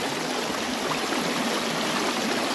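Steady rushing, hissing flow of water washing clay while panning for gold, constant and close with no pauses or voices.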